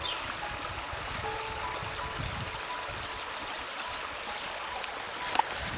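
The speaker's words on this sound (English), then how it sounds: "Beautiful sound of the river." A countryside river near Denbigh flows in a steady, soft rushing wash, continuous and fairly distant, with no voices.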